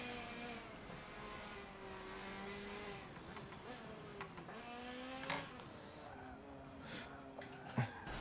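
Race cars at the start of a Forza Motorsport 7 race, engines droning and rising in pitch through gear changes, faint overall, with occasional sharper transients as the pack accelerates.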